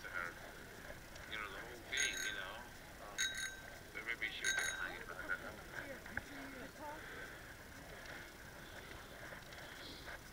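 A small bell rings out in a few bright, metallic strikes, some in quick pairs, over a steady background murmur of people talking.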